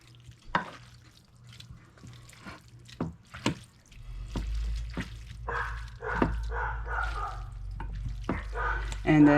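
Baked spaghetti ingredients are stirred and mixed in a bowl, with wet squelching and irregular clacks of the utensil, and a low hum underneath that grows louder halfway through.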